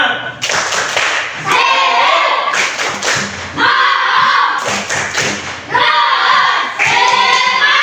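A classroom group of students performs a rhythmic cheer clap in loud, unified bursts with heavy thumping beats, repeating in several rounds separated by short pauses.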